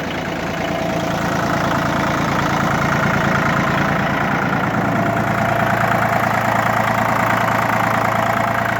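A used Japanese ISEKI TU245 4WD compact tractor engine idles steadily and evenly, a continuous close mechanical drone with a low rhythmic chug, running alone throughout.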